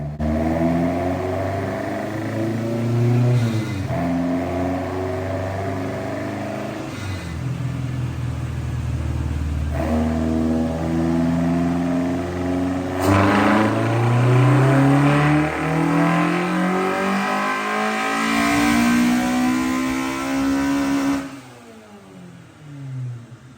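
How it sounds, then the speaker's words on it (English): A Toyota AE86 with a Beams engine and Panic individual throttle bodies revs hard on a dyno, climbing repeatedly through loud, rising pulls with sweeping engine harmonics before cutting off abruptly near the end. "Next up is our friend Danny with the Panic ITBs on his Beams engine."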